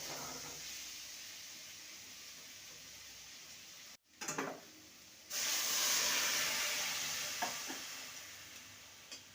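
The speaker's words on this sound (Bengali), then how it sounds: "এবার সেদ্ধ করা মটরটা দিয়ে দেবো" Boiled peas dropped into a pan of fried spices for a vegetarian ghugni, a short clatter followed by a loud, steady sizzle and hiss that fades slightly, with light stirring scrapes, no talking.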